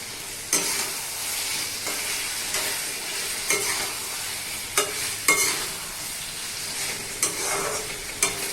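Sponge gourd and potatoes fry in a pan with a soft, continuous sizzle, while a spoon stirs and scrapes at irregular intervals, each stroke a sharp close clatter, with no voices.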